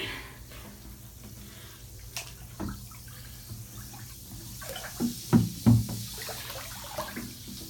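A hand swishes and digs through deep water in a large bathtub while a bath bomb dissolves, with soft sloshing and a few clearer splashy knocks toward the end.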